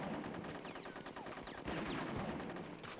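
Video game gunfire pops in fast bursts over a busy mix of game sounds, sitting fairly low in the overall sound.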